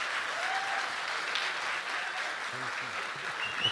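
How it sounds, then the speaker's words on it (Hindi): Audience applause at an international mushaira and kavi sammelan poetry gathering in Bahrain, a steady, fairly soft wash of clapping from a crowd, heard at a distance, with a few faint voices underneath. "जोरदार तालियों से इस्तकबाल करें नदीम भाई का"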